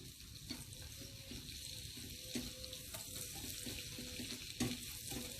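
Garlic and butter sizzle steadily in a hot pan while a baked paneer stuffed potato is cooked, a close, continuous crackling fry with occasional light clinks.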